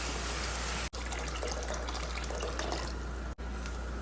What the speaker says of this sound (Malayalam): എത്ര വെള്ളം വേണോ അത്രയും ഒഴിച്ച് കൊടുക്കാം